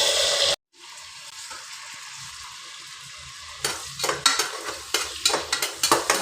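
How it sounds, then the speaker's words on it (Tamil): Onions sauté in hot sesame oil in a cooker, a steady sizzle that briefly cuts out, then resumes with rhythmic scraping stir strokes growing louder toward the end. "வெங்காயம் நல்லா வதங்கணும்."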